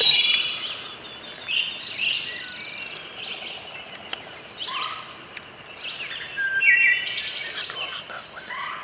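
Wild birds chirp and call in outdoor woods during an Ohio turkey hunt, a steady scatter of bright tweets near and far with bursts of song, no talking.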